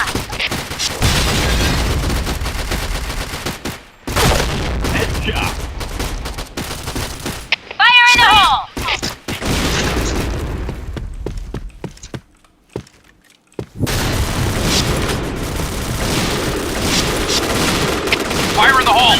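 Gunfire in a shooter video game rings out as loud, dense bursts of rapid shots with booming impacts, broken by brief quiet gaps, and voices talk over the action.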